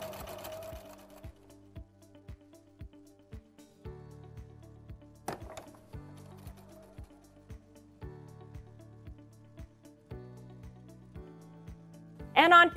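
A home sewing machine runs in short bursts of rapid, evenly spaced stitching, three stitches forward then three back, with quiet gaps between runs and a brief voice near the end.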